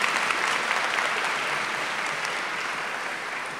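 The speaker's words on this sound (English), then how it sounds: "Can we give a round of applause for them," A high school commencement crowd applauds teachers and families with a thick, continuous wash of clapping that holds steady and eases off slightly toward the end.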